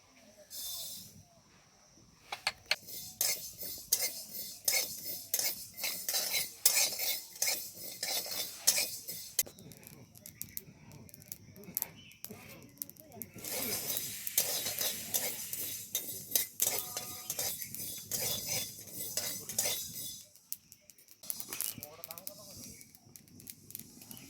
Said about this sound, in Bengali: তো এই সর্ষেটা শুকনো খোলায় ভেজে নিতে হবে।